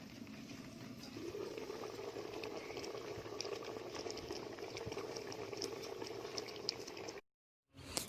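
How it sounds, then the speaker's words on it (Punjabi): Punjabi-style chicken curry bubbles steadily in a pot in a village kitchen, a dense, continuous simmering that swells slightly after the first second, then cuts off briefly near the end. "ਇਸ ਤਰ੍ਹਾਂ ਹੀ ਚਿਕਨ ਰਿੱਝੀ ਜਾਂਦਾ"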